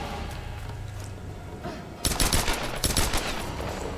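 Rapid gunfire erupts in a Tomb Raider 2013 multiplayer team deathmatch, a burst of quick repeated shots that starts abruptly midway and continues in clustered volleys until the end.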